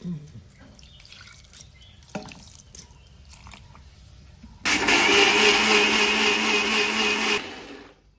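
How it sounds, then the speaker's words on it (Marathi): A mixer grinder whirs loudly while grinding rice batter for traditional Konkan ghavane, starting abruptly after a quieter stretch, running steadily for about three seconds, then winding down. "आता मिक्सरला लावून घावणे बनवायला सुरुवात ना हो"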